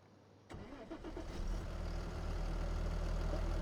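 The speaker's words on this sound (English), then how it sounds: "This is actually our tractor." Tractor, a 728 model, cranking and starting in Farming Simulator 25: an abrupt start with a few uneven turnover pulses, then the engine settles into a steady, fairly loud idle hum.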